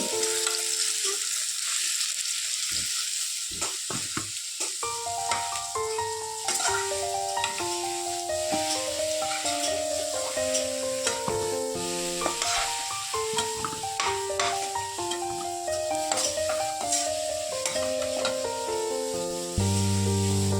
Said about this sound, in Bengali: এদিকে কিন্তু মাছ ভাজা, কাঁচকলা ভাজা কমপ্লিট।